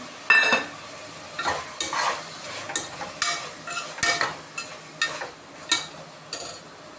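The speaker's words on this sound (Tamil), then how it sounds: "நெக்ஸ்ட்டு தயிரையும் போட்டுடலாம்." Yogurt is added to chicken biryani masala and stirred with a utensil, producing a series of repeated scraping, clinking strokes against the pan over a soft sizzle, close and moderately loud, with no voices.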